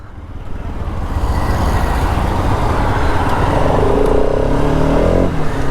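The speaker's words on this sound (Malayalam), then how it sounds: "നമുക്കിനി എന്തായാലും RS200 ഒന്ന് ടെസ്റ്റ് റൈഡ് ചെയ്ത് നോക്കാം" A 2024 Bajaj RS 200 motorcycle on a test ride, its engine a steady, loud drone with a slight rise in pitch partway through, wind rushing past throughout.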